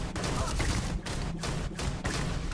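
Gunfire in the sci-fi shooter game Starfield comes in dense, rapid bursts separated by brief gaps, loud and close, with no clear talk over it.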